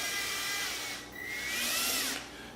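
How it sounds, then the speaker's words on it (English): A power drill whines while boring out 3D printed plastic parts to fit M3 screws, two close sustained bursts with rising pitch and a brief dip between them, no talking. "Now that we have all of the pieces drilled out"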